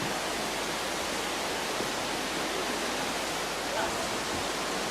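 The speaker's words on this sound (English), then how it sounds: "Well, that's a waterfall, I reckon." A waterfall with snow piled at its base, on a 2008 USA trip, roars as a steady, dense rush of broadband water noise that holds at an even loudness throughout, with no one talking.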